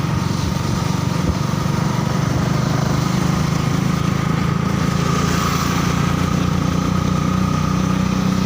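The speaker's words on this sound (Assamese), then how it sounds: "গাড়ী আৱাজ" A motorbike engine runs steadily at idle, loud and close, a continuous low rumble with no breaks and no talking.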